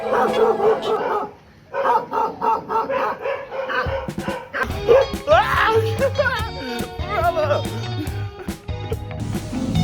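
A dog barks and yips repeatedly at close range, with some whimpering, mixed with a person talking and moving around.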